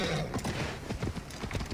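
Horse hooves clip-clopping on a road in the Assassin's Creed Valhalla video game, a quick steady trotting rhythm heard up close over a low rumbling game soundscape.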